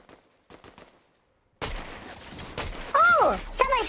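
Gunfire in Fortnite Zero Build squads, with faint taps first, then a sudden burst of loud close shots and impacts with whooshing tones, while someone talks over the action.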